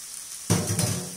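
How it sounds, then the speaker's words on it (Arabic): Onion sizzling in a hot pan and being stirred, a soft frying hiss that jumps up sharply with a stirring scrape midway, fairly quiet and close, with no voices. "ومره نحرك البصيله باش ما تحرقش"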